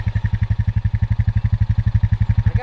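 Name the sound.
four-wheeler engine revving while stuck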